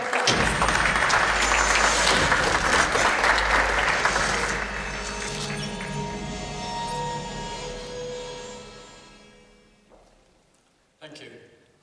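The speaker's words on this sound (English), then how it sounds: "Let's give a round of applause" An audience applauds to welcome a speaker onto the stage at a leadership development session on emerging technologies. Dense clapping runs loud for several seconds, then gradually fades out, followed by a brief bump of noise at the end.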